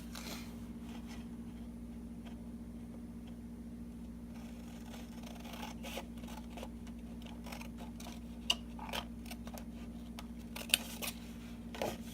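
Sharp rose gold scissors snip through paper while an envelope is being folded, giving a scattered series of quiet, crisp clicks over a low steady hum, with no voices.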